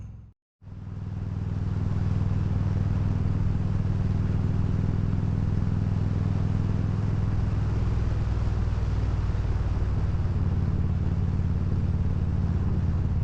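A steady, loud engine drone runs continuously after a brief gap at the start, like a motorcycle cruising along at a constant speed.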